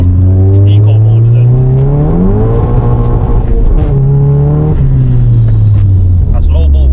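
A tuned budget Volkswagen Golf GTI engine revs hard under full throttle from inside the cabin, its loud droning note climbing steeply, easing briefly, then pulling up again in a sustained pull.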